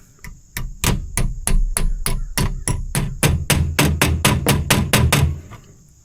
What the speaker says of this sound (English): Take your trusty hammer.